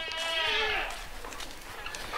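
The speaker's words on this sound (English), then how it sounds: "Come on, goats." Goats bleat in a loud, wavering cry near the start, followed by quieter animal sounds and shuffling as a person calls to the herd with a feed bucket.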